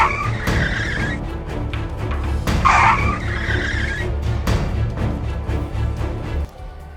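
A road accident between a scooter and a motorbike, with loud close tire skidding and traffic noise, a sharp screech in the middle, and a sudden drop in level near the end.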